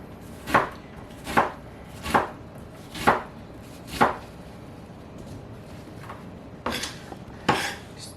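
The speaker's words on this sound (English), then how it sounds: "slices, and then you turn your onion and you just go down" A knife dices an onion on a cutting board with about five evenly spaced, crisp chopping thunks, a pause, then two more cuts. Close and clear, with no speech.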